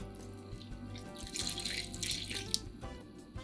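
Water poured from a tap or jug into a bowl of flour, rendered pork lard and egg for empadão goiano pastry dough, a steady splashing trickle close by, with no talking.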